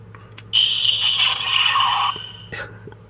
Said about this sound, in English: that they actually added LED lights and sound effects